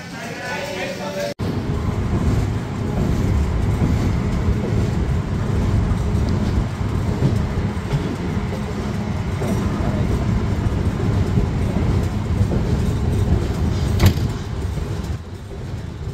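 The Chitra Express rolls out of Ishwardi Junction railway station, heard from inside a carriage as a loud, steady rumble of wheels on rails that holds unbroken for the whole stretch after a brief thump at the start.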